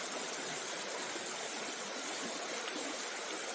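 River water flows steadily in a broad, constant wash close by, a rushing stream sound with no breaks and no voices.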